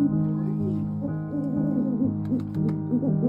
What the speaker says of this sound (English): Listen to how an owl's hoot changes when someone special comes for a visit.